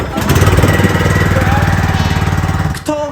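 A lawn mower engine drives through a McDonald's McDrive lane, running loud and steady with a rough, chugging rattle for about three seconds before it cuts off abruptly.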